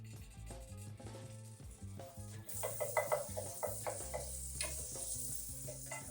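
A small knob of butter melts in a pan over low-medium heat, and a soft hiss and sizzle rises midway through over quiet background music, with a few light clinks.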